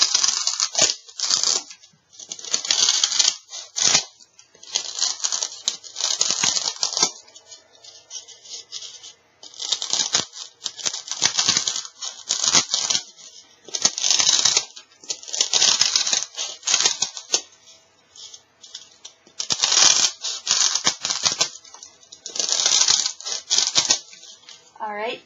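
Corners are cut off a shape for a Valentine's Day rose topiary made from Dollar Tree supplies, giving repeated crisp snipping and tearing bursts in irregular clusters, close and moderately loud.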